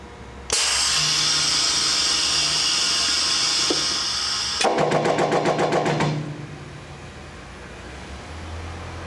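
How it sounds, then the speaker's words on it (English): A Forwell roto S-cam quick die change clamp on a stamping press rising, turning and clamping into place: a loud steady mechanical hiss for several seconds, then a rapid rattling burst of pulses that cuts off and leaves a low hum. "When I initiate it, it's going to come up, turn, and then clamp into the die clamping location."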